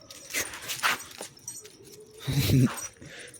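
A dog whimpers and yips briefly amid background chatter, with a louder burst of barking-like sound near the end.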